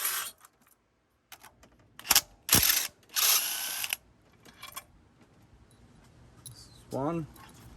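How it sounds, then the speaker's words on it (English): A ratchet with a 14mm socket works on valve cover bolts of a 2008–2013 Nissan Rogue. It gives short bursts of clicking and metallic ratcheting, separated by pauses, with a brief voice near the end. "there's 3 bolts we have to remove with a 14mm socket"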